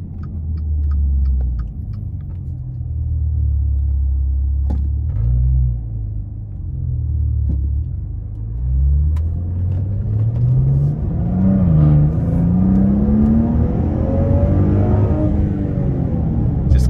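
A 2017 Maserati Ghibli SQ4 engine revs up steadily, its pitch climbing through the gears as it accelerates hard, loud and close, with no talking.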